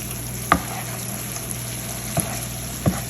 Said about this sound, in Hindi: इसको अच्छे से अपनी जो हमारी कलेजी है इसको अच्छे से हम भून लेंगे